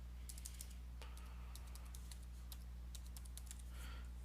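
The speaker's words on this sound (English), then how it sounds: "I'm just going to type in a password." A password being typed on a computer keyboard, quick irregular bursts of close, light key clicks over a low steady hum.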